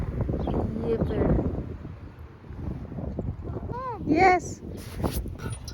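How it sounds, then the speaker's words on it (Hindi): Wind gusts and rushes through the trees of a park, with a whooshing, uneven roar and microphone buffeting. Someone speaks briefly over it, and a few faint chirps come through near the end. "इतनी हवा चल रही है, उसकी आवाज़ तो आप सुन ही रहे होंगे"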